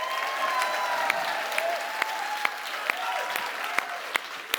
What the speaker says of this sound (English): Let's give Liz Faircloth a big round of applause.